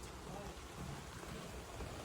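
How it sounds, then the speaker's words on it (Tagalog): Rain falls outdoors as a faint, steady hiss of drops. The broadband patter is continuous and even, with no other sound standing out. "Umuulan pala."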